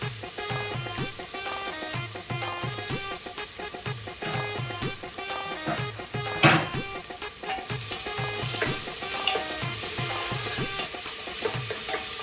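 Sliced onions fried and stirred in a hot pan, with a steady loud sizzle and a regular rhythm of spoon scrapes and knocks against the pan throughout, close up and without talking.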